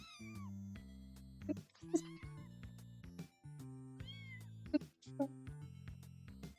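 Several cartoonish cat meows ring out in a video game over looping background music, each short and bright, spaced a second or so apart at moderate loudness.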